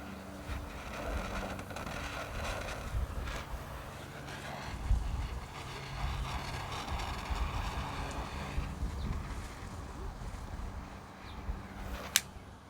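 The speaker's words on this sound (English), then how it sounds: "A little windy here today" Wind gusts outdoors on a gray day near a mountain in Southern California, a steady low buffeting rumble across the microphone throughout, with one sharp click near the end and no talking.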